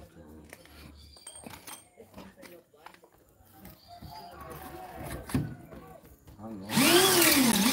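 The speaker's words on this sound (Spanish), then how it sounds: "Métale más la broca." A drill boring a hole for a post starts with a sudden loud, whining roar near the end, after a stretch of people talking over quiet handling clatter.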